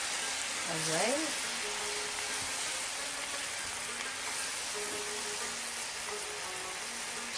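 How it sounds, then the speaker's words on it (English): Steady broadband sizzling of chicken frying in a pan with teriyaki sauce, continuous and fairly loud, with faint voices and brief tonal sounds in the background. "Chicken teriyaki, you grill the chicken,"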